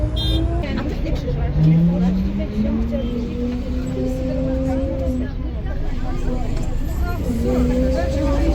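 A packed bus in Morocco rumbles along as its engine whines up and down through the gears, with a steady wash of road noise and passenger chatter throughout.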